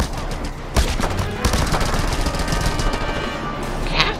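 Bursts of gunfire from the video game Just Cause 2, rapid automatic shots crackling in dense runs with a few sharper blasts, loud and continuous with no talk over it.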